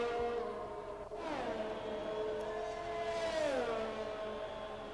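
Valtteri Bottas's Formula 1 car at the Bahrain Grand Prix approaching the finish, a steady high engine whine that rises and falls in pitch through gear changes over a constant crowd-like background, heard from a distance.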